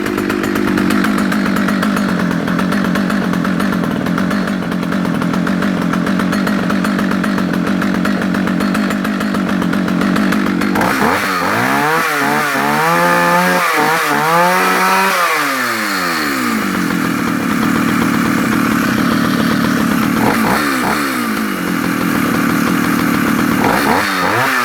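A vintage Swedish Partner R16 Classic 55cc chainsaw with an early Atom electronic ignition runs loud and close, idling steadily and then revving up and down in rising and falling sweeps.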